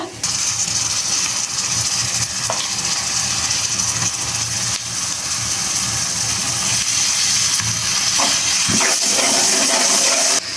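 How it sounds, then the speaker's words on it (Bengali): Ginger garlic paste hitting browned onions in a hot pan gives a loud, dense, continuous hiss that holds steady for the whole stretch, with a few faint clinks underneath and no voices. "পেঁয়াজটা ব্রাউন হয়ে আসছে, এই পর্যায়ে আমি দিয়ে দিব একটু আদা রসুন বাটা"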